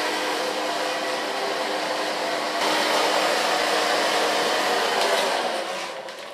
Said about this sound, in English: For so far blow drying